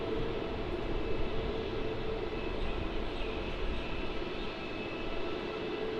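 A Jetstar airliner taking off from runway 16 at Melbourne airport, its engines a steady, moderately distant roar with a faint sustained tonal whine, heard alone.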